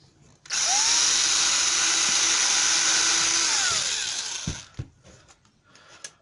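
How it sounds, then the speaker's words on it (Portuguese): A power drill with a 2 mm bit bores a hole for a homemade amplified Wi-Fi antenna: a loud, close, steady whine for about three and a half seconds, then it winds down, followed by a few faint clicks. "Vou fazer um furo aqui no meio, usando uma broca de 2 milímetros."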